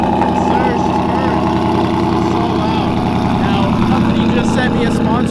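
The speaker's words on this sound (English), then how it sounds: "let's go ahead and start the car" A supercharged 700 whp Mustang engine idles loudly and steadily at close range, its deep rumble continuous while a voice talks over it.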